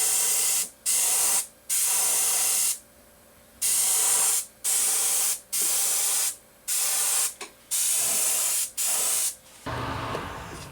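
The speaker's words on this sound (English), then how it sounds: "So I'm going to spray this one" Airbrush spraying UV cure epoxy resin at 40 psi, giving a series of loud, steady hissing bursts of about a second each, separated by brief silences, with no talking.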